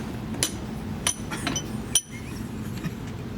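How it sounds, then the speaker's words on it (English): A magneto part for a Mercury four-cylinder engine being clamped in a bench vise: a few sharp metallic clinks and knocks spaced apart over a quiet background, no talk. "All right, I'm gonna put this in the vise."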